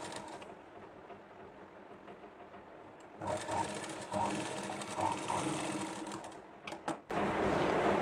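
A sewing machine runs in a tailoring lesson, stitching a quarter-inch foot-width seam, its steady mechanical whir coming in bursts after a quieter opening and ending in a louder close run.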